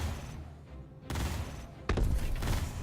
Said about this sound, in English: Oh, I am not being impressed by these guns.